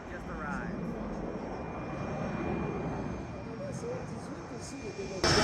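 A CF-18 Hornet fighter jet flies overhead at the Gatineau-Ottawa airshow, a loud, steady broadband roar that holds throughout and swells slightly at the very end.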